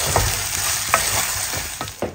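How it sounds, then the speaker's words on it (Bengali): Rice for pulao is fried in a pan and stirred, so a bright continuous sizzle is punctuated by several scraping and tapping spatula strokes, close and fairly loud, with nobody speaking. "আর এখানে পোলাওটাও আমি চালটা ভালো করে ভেজে নিই"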